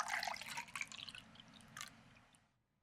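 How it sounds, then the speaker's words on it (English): Cider pours into a cooking pot with a bright splashing trickle and a few drips, then tapers off into quiet, close and alone. "I think that's more than ready for the cider. So let's pour it in."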